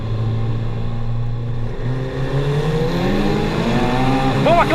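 Porsche 911 GT2 RS and McLaren 720S in a rolling-start race: a steady engine drone climbs in pitch as the cars accelerate, loud and close, with a sharp rising whine near the end.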